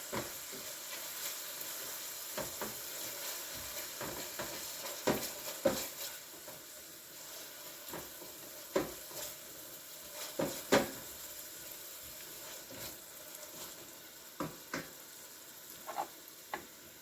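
Chicken and rice with tomato sauce being stirred in a pan: a steady soft sizzle with scattered clicks and scrapes of the spoon, close and alone, no talk.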